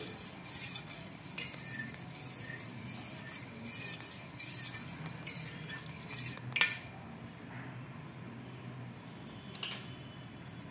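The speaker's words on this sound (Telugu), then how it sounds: "వేసుకొని బాగా మిక్స్ చేసుకోవాలండి" Katora gum health drink stirred with a spoon to mix it: steady soft scraping and clinking of metal against the vessel, with a sharper clink partway through, alone and moderately quiet.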